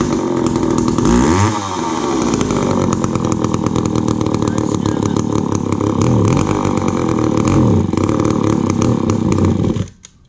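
A McCulloch Pro Mac 10-10 chainsaw with a freshly rebuilt carburetor, still cold, runs loud and close with a raspy two-stroke drone, its pitch rising and falling with throttle blips before cutting off abruptly near the end.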